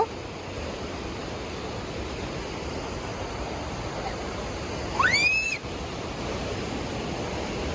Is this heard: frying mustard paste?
no